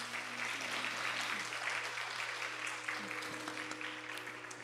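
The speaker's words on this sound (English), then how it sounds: "Please give her a big round of applause." Audience clapping after a Bharatanatyam arangetram dance recital, a steady crowd of applause over a low constant hum, moderately distant and continuous throughout.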